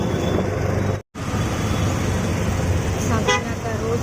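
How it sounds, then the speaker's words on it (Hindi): Busy stop-and-go road traffic on Saki Naka road runs as a loud, steady roar. A short drop to silence breaks it near the start, and a couple of car horn toots sound near the end. "साकिना का रोड का ट्रैफिक।"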